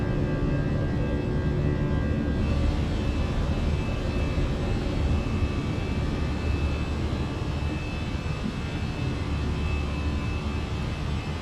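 An airliner climbs out after takeoff from Dublin in Microsoft Flight Simulator. Its engine roar is loud and steady, with a broad rumble and a faint whine above it, and there is no speech.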